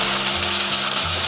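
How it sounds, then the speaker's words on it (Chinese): Pan-fried squab sizzles loudly in a clay pot with scallion, ginger and garlic, a dense, continuous frying hiss up close with no talking. "葱姜蒜爆香以后，我们就可以下入煎好的乳鸽。"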